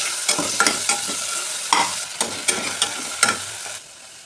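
Tomatoes dropped into ginger, garlic and green chili paste frying in a pan, a steady sizzle broken by repeated sharp scraping stirs, close and fairly loud with no talking.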